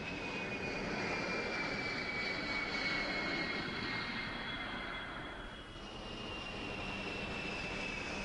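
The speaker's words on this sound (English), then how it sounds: "Six Air Force C-141 Starlifters fly in close formation." Six Air Force C-141 Starlifter transport planes flying in close formation, a loud continuous engine roar with a steady whine on top, swelling slightly then easing, with no talk.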